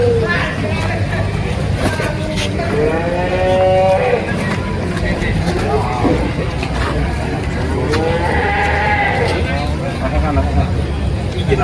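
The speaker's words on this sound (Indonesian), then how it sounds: "Ini bawa sapi super nih." Large cattle at a busy livestock market, lowing in long drawn-out moos, several calls in a row amid crowd chatter, people talking and passing vehicle noise.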